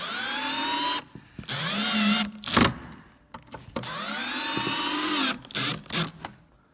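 A power drill drives screws into a skate ledge panel in two long, close whirring runs whose pitch climbs as each screw tightens, separated by short clicks and handling knocks.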